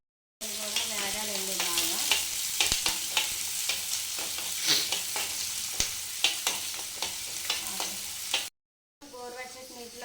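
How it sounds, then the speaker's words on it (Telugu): Sliced onions and green chillies sizzle loudly in hot tempering oil, with steady crackling frying and frequent sharp stirring scrapes, broken by a short silence before the sizzle resumes. "తాలింపులు వేగిపోయాక సన్నగా కోసిన ఉల్లిపాయలు పచ్చిమిరపకాయలు"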